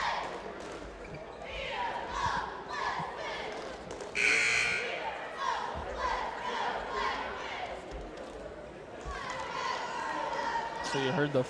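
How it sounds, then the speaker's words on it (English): A long electronic buzzer sounds partway through amid crowd noise and chatter at a high school basketball game in a gym, with squeaks and bounces scattered around it. "So you heard the first buzzer there."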